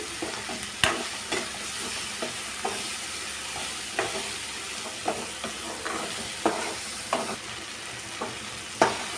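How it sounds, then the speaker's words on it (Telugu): Tamarind chutney scraped and stirred around a pan so it won't stick, each spoon stroke a crisp scrape at irregular intervals over a steady low sizzle, close and alone. "మధ్య మధ్యలో ఇలాగా అడుగంటకుండా కలుపుతూ ఉండాలి"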